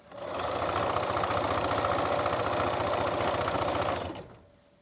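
A sewing machine runs edge stitching along the U-shaped seam of pajama pants, a loud, fast, even mechanical whir with rapid needle chatter that starts up, holds steady for about four seconds, then winds down and stops.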